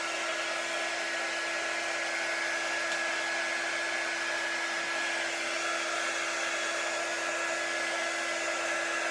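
A hair dryer blows a steady, loud whine and rush of air to dry paint on a chalk-paint craft piece, unbroken from start to finish.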